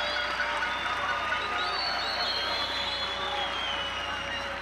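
Football fans cheer and applaud in a stadium during a Cuba youth match, a steady broad crowd roar with whistles, under an announcer talking.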